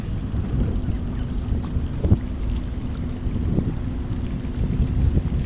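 Small boats at a beach in the evening, with low engine rumble, waves and wind buffeting the microphone in a steady noisy wash, no voices.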